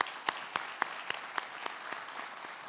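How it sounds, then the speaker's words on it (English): Conference audience applauds, a thin scattered clapping with a few sharp individual claps standing out at first, fairly distant and fading slightly over a few seconds. "let's give him a round of applause"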